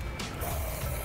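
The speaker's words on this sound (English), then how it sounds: "you take your handy-dandy favorite dry shampoo, and you can spray it onto the wig to make it" Dry shampoo sprayed onto a synthetic hair wig gives a short, steady aerosol hiss lasting about a second, heard close up in a television studio setting.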